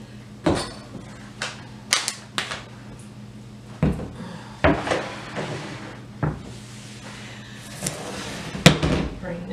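Seafood pasta salad with crab and shrimp is stirred in a bowl, giving scattered clacks and knocks of a utensil against the dish, some sharp and close, over faint background hum.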